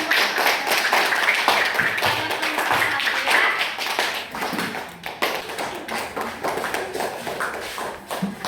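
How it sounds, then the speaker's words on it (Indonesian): A third-grade class claps together in dense, enthusiastic applause that continues throughout, slowly thinning toward the end. "Tepuk tangan dulu."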